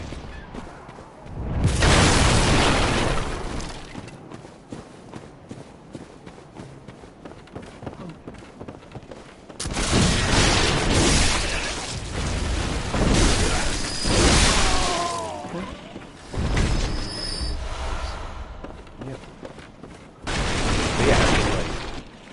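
Cannon shots and explosions in Bloodborne come as several loud, broad booming bursts, each rumbling for a second or more. Quieter stretches of game ambience and movement sit between the blasts.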